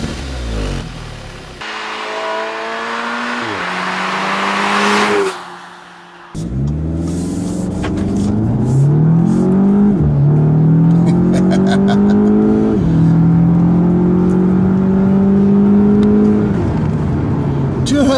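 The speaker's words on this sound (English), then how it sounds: "one of the more drivable, good sounding 4-cylinder engines that I've heard in an Audi in a long time" A 2015 Audi S3 four-cylinder engine pulls hard through the gears. Its note climbs in long rising sweeps, dips briefly at each shift, then climbs again. It is loud and close, with a short lull midway.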